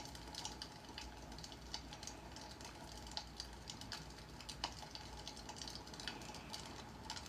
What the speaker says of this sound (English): What's all that typing in the background?